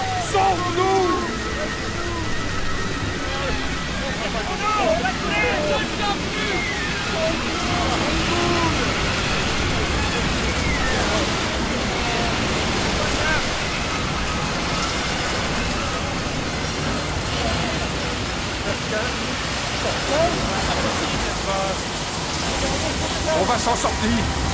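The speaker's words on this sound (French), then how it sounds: "Les vagues sont trop fortes!" Storm waves crash on a rough sea with rain in an animated children's story, a loud continuous roar of rushing water and surf that never lets up, with voices faintly mixed in.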